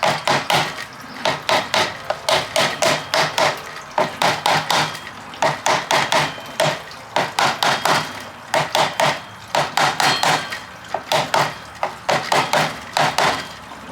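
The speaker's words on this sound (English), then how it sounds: "Tap them in. Make sure you don't hit your thumb." A hammer taps wooden pieces into a hydroponics base frame, a rapid series of sharp, close wooden knocks in bursts with short pauses between them.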